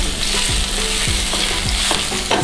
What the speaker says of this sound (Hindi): ऑयल गर्म हो गया, मैंने गार्लिक डाल दिया इसमें।